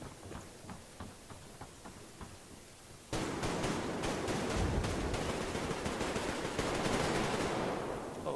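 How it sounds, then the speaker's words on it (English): Rapid automatic gunfire from an enemy player in the Survarium shooter game, sparse distant shots at first, then a sudden loud, sustained burst of close, dense rattling fire that continues to the end. "Wait, how is he shooting while reloading?"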